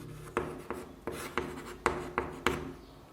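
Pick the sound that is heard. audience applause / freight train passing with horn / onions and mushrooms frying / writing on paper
writing on paper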